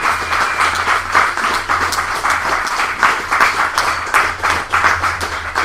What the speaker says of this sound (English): final applause.